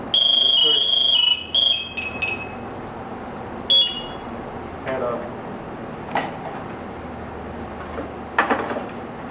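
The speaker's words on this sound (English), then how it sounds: "If you are in an emergency situation and you need help, it's got a panic alarm." An SCBA breathing apparatus panic alarm letting out shrill, high-pitched electronic bursts, loudest at the start and then recurring briefly, with a person talking between and over the tones.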